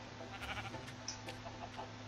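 A sheep in the Minecraft game on Xbox 360 gives a couple of short, soft bleats over quiet background game sound.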